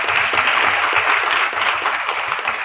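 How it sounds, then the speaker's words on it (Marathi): An audience at an event honouring young heroes for bravery gives a steady burst of applause. The dense, close clapping continues throughout the short stretch. "छोटे जवान, त्यांच्याकरता आपण टाळ्या वाजवत खरंच"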